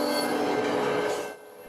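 A train passes a railway crossing with a loud, continuous rumble and wheel squeal, then eases slightly toward the end of the brief clip.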